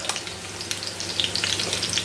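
Hot oil sizzles and crackles steadily in a pan of frying cutlets, a close, continuous frying hiss with small pops.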